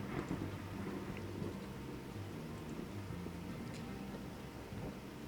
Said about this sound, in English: And now there's a storm here.